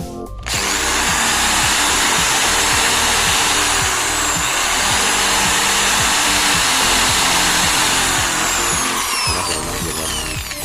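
A Bosch GBM 350 electric drill, used for bamboo craft work, runs continuously at full speed with a loud, steady motor whine and buzz that holds for about ten seconds with no talking.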